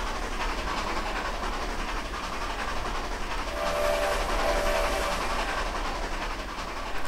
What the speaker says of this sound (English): The Canadian Pacific Selkirks from K&L Trainz.